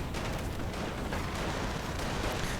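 Dense gunfire in a World War II strategy video game, rapid overlapping rifle and machine-gun shots with distant booms forming a continuous loud clatter.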